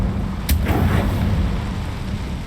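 A Confringo blasting spell in Hogwarts Legacy goes off with a deep, rumbling explosion. A sharp crack marks the start, a low roar follows, and another thump comes at the end.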